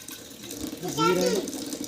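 Water runs and gushes steadily at a village temple shrine, close by, while a voice and other talking carry over the flow.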